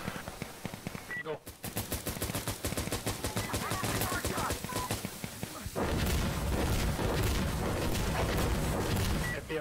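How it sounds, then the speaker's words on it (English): Sustained automatic gunfire in the tactical shooter SPIKE Unit: Tactical, dense rapid bursts crackling almost continuously at close range, with heavier booming fire toward the end and voices calling out over the shooting. "we're taking fire from the southwest corner exterior"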